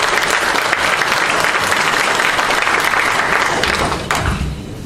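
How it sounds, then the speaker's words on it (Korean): Sustained applause from a ceremony audience at a printing culture day commemoration, dense steady clapping at close range that tapers slightly near the end. "여러분 박수로 환영합니다."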